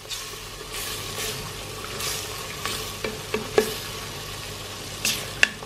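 Tomato sauce made with a little canned tomato fries in a pan for a beef tongue dish while being stirred, giving a steady close sizzle broken by irregular spoon scrapes and soft clicks against the pan.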